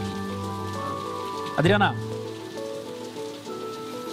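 Rain falling outdoors makes a steady wash across the whole clip, heard under a voice talking.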